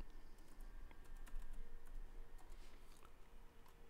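Someone types on a computer keyboard, entering text into a web browser, with a steady run of faint, quick key clicks against a quiet room background and no talking.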